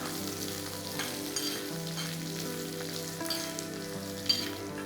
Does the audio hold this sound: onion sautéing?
yes